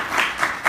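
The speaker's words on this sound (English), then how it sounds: "So a big round of applause for you." A meeting audience breaks into applause, a brief burst of clapping that swells in a few quick pulses.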